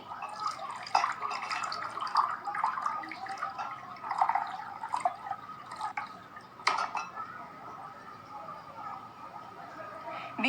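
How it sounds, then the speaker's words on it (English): Water poured from a jug into three glasses one after another, a steady liquid trickle and splashing with small drips, fairly close and moderately loud, no talking. "Now we will pour water in 3 glasses,"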